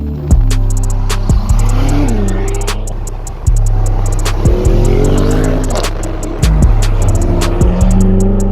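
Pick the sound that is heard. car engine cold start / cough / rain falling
car engine cold start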